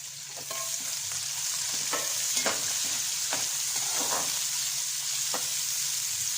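Chopped onion fries in a pan for a bottle gourd curry, giving a steady, close sizzle with occasional stirring clinks and scrapes throughout.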